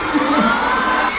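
Loud, dense crowd of fans, mostly girls, cheering and shrieking at a concert in Manila, a continuous roar of high-pitched voices filling the whole moment.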